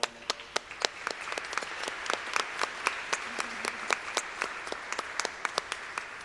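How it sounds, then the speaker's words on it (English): An audience at a music awards ceremony applauds, a dense, lively patter of many hands with sharper individual claps standing out, sustained throughout. "Please give them a round of applause."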